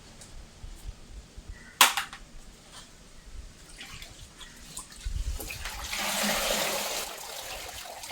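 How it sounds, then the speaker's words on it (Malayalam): A dress dipped into water makes soft sloshing and swishing that swells toward the end, after a single sharp knock near the start; the scene is fairly quiet with no talking. "നമുക്ക് വെള്ളത്തിൽ മുക്കിയെടുക്കാം."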